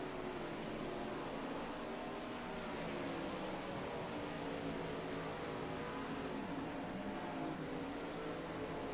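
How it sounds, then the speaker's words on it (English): Race cars practicing on a dirt track, a continuous blended engine drone from several cars, steady and moderately distant with no talk over it. "Cars are on the track now for practice."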